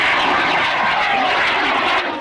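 An Interceptor-M high-power model rocket at the Plaster Blaster launch event roars off the pad, a loud continuous rushing blast that holds steady before tapering slightly at the end.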